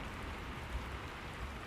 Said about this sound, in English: Rain lashed the windshield in sheets as thunder rolled low across the sky.